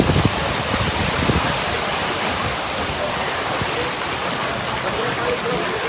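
Heavy monsoon rain pours down in Dwarka during a downpour of 16 inches in 12 hours, a loud, continuous hiss of water with a few faint thumps underneath and no voices.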